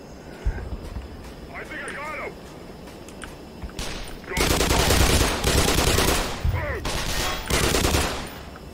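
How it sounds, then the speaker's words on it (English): Gunfire from snipers in the shooter game Black Mesa. Loud, dense volleys of shots start midway and continue with brief gaps, and a voice speaks briefly before and between the volleys. "I'm being sniped now."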